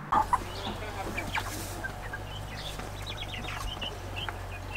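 Meat chickens clucking in a garden, a scatter of short, soft clucks and calls at moderate distance over a steady low background hum.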